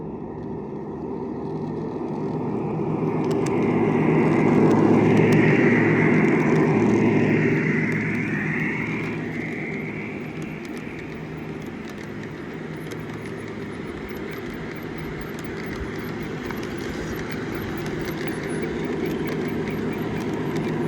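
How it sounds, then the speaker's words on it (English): A Lionel model train runs past on a garden railway, a steady rolling rumble that swells as it comes near around the middle and then eases off into a softer continuous hum, with no talking. "let's watch this train go by"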